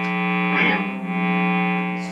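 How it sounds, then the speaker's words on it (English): A Gibson Les Paul Special Tribute electric guitar with P90 pickups plays a single loud distorted chord that rings out and sustains for about two seconds, alone. "Distortion."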